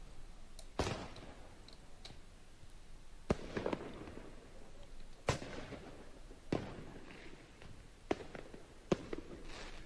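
Fireworks bang and crackle at night during rioting in Argenteuil, with scattered sharp reports spaced a second or two apart, some fairly close and others more distant, over a steady outdoor hiss.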